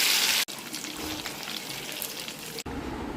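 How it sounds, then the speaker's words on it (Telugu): Fish pieces frying in hot oil with green chillies, a steady close, loud sizzle and crackle filling the whole stretch, with two brief sharp breaks in the hiss. "మిగిలినవి కూడా ఇలా ఆయిల్లో ఫ్రై చేసుకుంటే సరిపోతుంది"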